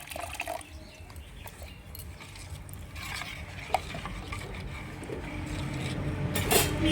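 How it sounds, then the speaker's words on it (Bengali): Rice flour batter for chitoi pitha stirred in a bowl as water is added bit by bit, a steady wet swishing and faint clinking of the spoon, close and continuous with no talk. "অল্প অল্প করে জল দিয়ে দেবো আর গুলিয়ে নেবো।"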